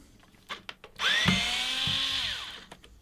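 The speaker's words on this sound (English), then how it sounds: "I'll pop that into my little Panasonic driver, and in no time at all, we'll have those six screws out." A small Panasonic electric screwdriver whirs steadily for about a second and a half while backing screws out of a studio monitor speaker, with its pitch gliding down as it winds off, preceded and followed by light clicks and handling taps.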